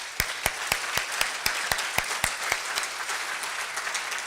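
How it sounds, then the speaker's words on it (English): Audience applause at a rugby referees' annual awards dinner, steady dense clapping from a crowd with a few sharp, louder claps standing out near the front, holding evenly for a few seconds without any talk. "let's give another round of applause to all the winners here tonight"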